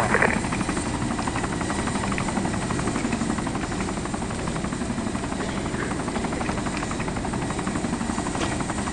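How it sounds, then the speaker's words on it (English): A video-game helicopter drones steadily and close, a constant rotor chop and engine rumble that stays at even loudness throughout with no talk. "We might as well board the chopper now."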